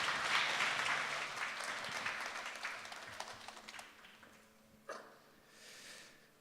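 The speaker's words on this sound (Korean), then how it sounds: "박수 부탁드리겠습니다" Audience applause closing a panel talk at a Seoul maker event, dense clapping for about four seconds that thins into scattered claps, then a brief thump and murmur.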